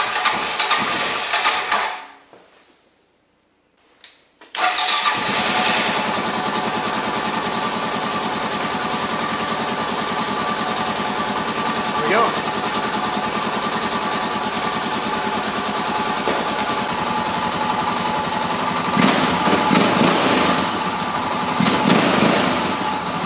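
Suzuki DR650 motorcycle single-cylinder engine fitted with a Lectron carburetor idles with a steady, rapid mechanical chug, close and loud; it briefly drops out near the start, then settles into a continuous even idle.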